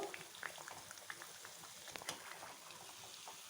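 Pieces of Bombay rava sweet dough frying in hot oil, a soft continuous bubbling sizzle with scattered small crackles, close and fairly quiet throughout.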